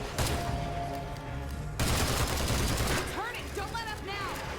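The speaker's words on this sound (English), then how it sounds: "Reload and get shooting some more" Gunfire in the video game State of Decay 2: rapid, loud bursts of shots in continuous volleys, with someone talking over the shooting.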